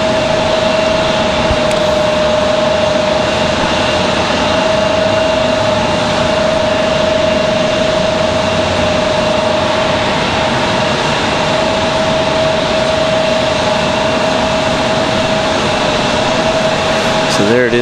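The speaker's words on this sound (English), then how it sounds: "Coming in from Washington Dulles, this is going to be a 737-700." A steady broadband roar with a constant whine comes from a Boeing 737-700 airliner arriving from Washington Dulles at Raleigh-Durham, loud and even throughout, with a voice speaking over the noise.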